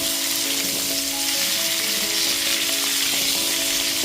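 Radish, carrot, potato and cauliflower fry in a pan over a medium gas flame for a Bengali winter mixed-vegetable curry, giving a steady, even sizzling hiss that continues unbroken with a faint tonal hum underneath.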